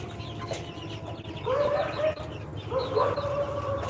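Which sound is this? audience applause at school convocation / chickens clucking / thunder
chickens clucking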